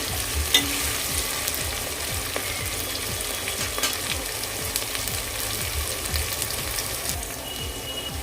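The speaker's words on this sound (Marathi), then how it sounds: "आपले एक दोन मिनटं हे परतून घेऊया टा टोमॅटो सॉफ्ट होईपर्यंत" Tomatoes and dry spices fry in a pan for green chicken biryani, a steady close sizzle with quick repeated stirring scrapes throughout, no voices.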